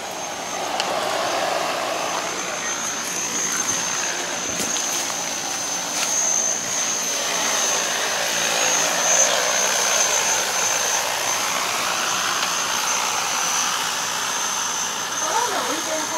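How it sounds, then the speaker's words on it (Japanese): An agricultural spraying drone hovers and flies at an outdoor farm demonstration, giving a steady, loud, high-pitched whine that holds unbroken throughout, with a voice speaking over it. "ドローンの実演を行っておりますので、"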